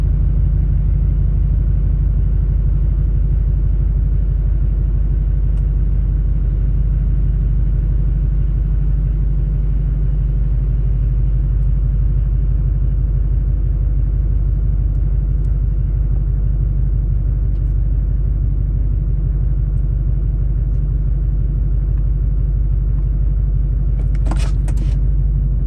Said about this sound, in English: I'm gonna go ahead and back out of the garage.